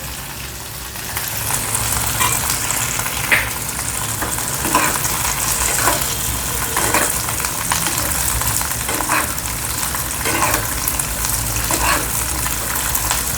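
Peanuts frying in a pan for green chilli chutney give a steady, close sizzle and crackle throughout, with occasional stirring scrapes and small pops standing out at a fairly even loudness.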